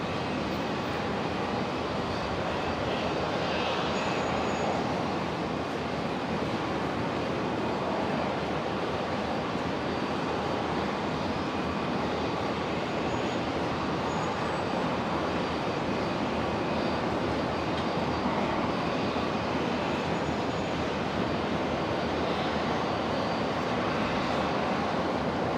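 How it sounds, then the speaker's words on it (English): Link Airways Saab turboprop coming in to land on runway 19 left at Brisbane International Airport, a steady distant roar of engine and rushing air that holds constant. "The Link Airways Saab next, coming in on 19 left."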